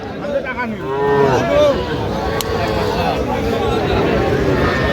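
Cattle and young calves at a livestock market moo in drawn-out, rising and falling calls, several overlapping near the start, over a continuous background of crowd murmur and voices.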